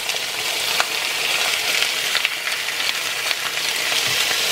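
Chicken gizzards frying in a pan with garlic, a steady close hiss and sizzle with small crackling pops and no talking.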